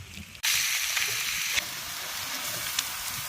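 Tomatoes hit a hot oiled pan with a sudden loud sizzle that stays steady and close, a brief quieter hiss before it, with no talking.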